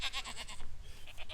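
Goats bleating at feeding time on a farm, several loud, wavering calls close by in quick succession, alone without any talking.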